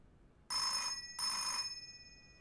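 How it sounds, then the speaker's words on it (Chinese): Telephone rings in two loud, bright electronic bursts with a short pause between them, indoors and otherwise quiet, with a fading tail after the second ring. "接电话"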